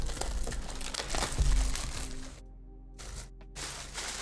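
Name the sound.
opening packaging of a Dragon Shield sleeves display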